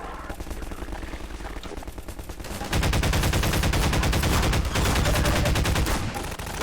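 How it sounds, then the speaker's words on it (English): Rapid gunfire from enemies in the video game Half-Life 2 rattles in sustained bursts, lighter at first, then a dense, loud, continuous barrage of automatic shots from about the midpoint onward. "I like how they're just constantly shooting."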